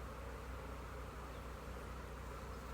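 Honey bees buzzing at an opened beehive during a frame inspection of the lower hive body, a faint, constant hum that stays even throughout.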